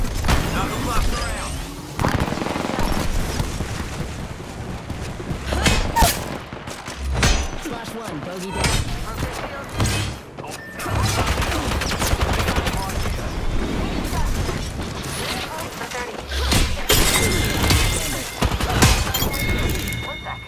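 Gunfire in the video game Apex Legends, loud bursts of rapid automatic shots and single cracks recurring throughout, mixed with impacts and game effects while voices talk over the action.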